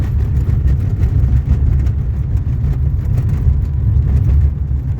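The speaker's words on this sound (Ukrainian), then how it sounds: "Ось, все, машинка на ходу." A VAZ-2110 car engine idles nearby, a steady loud low rumble that continues unbroken with no voices over it.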